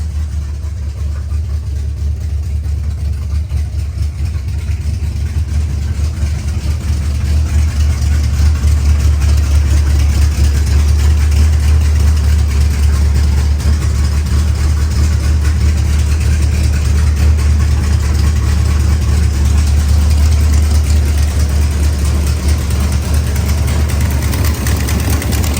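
Ratty drag car engine with a header leak idles steadily and loud, a continuous deep rumble with ticking exhaust pulses that stays constant close by with no voices.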